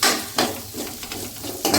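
Dal being stirred in a frying pan, a spoon scraping the metal in repeated strokes with a soft sizzle underneath, close and fairly loud, with no voices.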